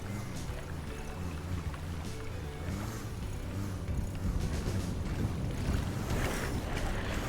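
A boat cruising slowly on the water in GTA, with a low steady engine rumble under wind and sea wash, continuous and moderately loud, thickening slightly partway through.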